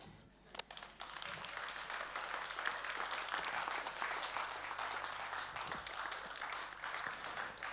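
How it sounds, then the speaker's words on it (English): A large keynote audience applauds continuously, a dense wash of clapping that swells after the first second and carries on to the end. "you should give a round of applause to all of you"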